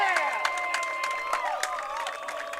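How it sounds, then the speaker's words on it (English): High school baseball players in the dugout at a sectional final, Mason versus Loveland, cheer and shout after a clutch two-out, full-count RBI hit, a burst of excited overlapping yells and whoops at moderate distance. "Crowd in the dugout loved that one."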